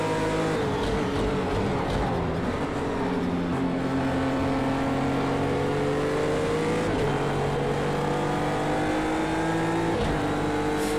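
Race car engine in Project Cars 2 droning steadily, its pitch shifting up and down through gear changes and throttle lifts over a continuous high-revving whine, alone without talk.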